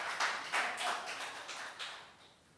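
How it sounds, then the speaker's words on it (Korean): A church congregation claps during a sermon, a few ragged bursts of hand claps that come in uneven waves and fade toward the end. "박수 쳐주세요."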